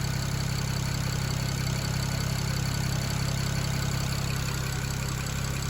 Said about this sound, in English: Car seems to be idling nicely.